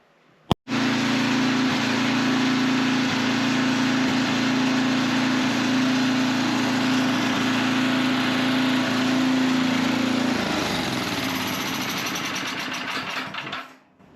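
An old Kohler small engine runs after being cleaned, starting with a sharp pop and then holding a loud, steady hum close by for about ten seconds before winding down and cutting off near the end.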